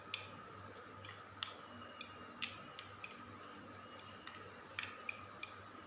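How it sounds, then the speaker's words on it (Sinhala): Garlic bread spread being mixed with butter in a bowl: faint, irregular clinks and taps of a utensil against the dish over near-silence. "මේ විදියට දැන් හොඳට මික්ස් කරගන්න බටර් එකත් එක්ක"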